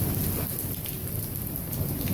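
A severe thunderstorm in Lawton, Oklahoma brings steady heavy rain hissing on surfaces under a deep, continuous rumble of thunder, loud and enveloping throughout.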